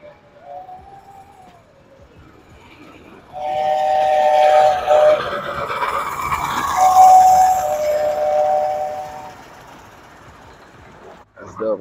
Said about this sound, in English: Oh, look, it's the train.